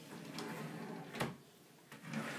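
A bedroom drawer slides open or shut with a few soft scraping bumps and a sharper knock in the middle, close by and moderately quiet, with no talking.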